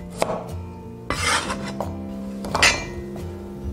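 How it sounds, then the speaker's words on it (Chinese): A knife cutting shallots in half on a board, with a few crisp chops and scraping knocks spaced out, close and moderately loud against a quiet kitchen. "准备一把红葱头，对半切开。"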